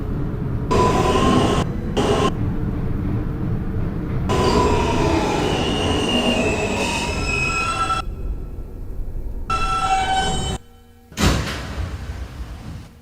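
Brooklyn-bound F local subway train running, a loud roaring rumble with screeching wheel squeals and tonal whines heard from inside the car, broken by a few sharp cuts and a brief quiet stretch near the end.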